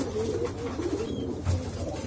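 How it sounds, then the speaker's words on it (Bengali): Pigeons in a loft coo softly while some perch and others feed, giving low, rolling calls that repeat in the background without speech. "কিছু কবুতর আড্ডাতে বসে আছে, বাকি কিছুগুলা খাবার খাইতেছে।"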